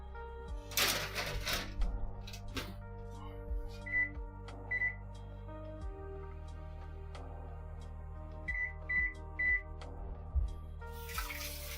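Oven control panel chirps in short tonal beeps while temperature and timer are set: a pair of single beeps, then a quick run of three, close by over kitchen clatter and a low steady hum.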